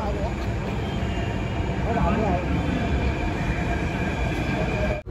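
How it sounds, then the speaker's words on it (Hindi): Steady, loud rumble of a metro train in motion, a continuous roar of wheels and cabin noise with faint wheel squeal. "मेट्रो में आ गए तो बहुत चील लग रहा"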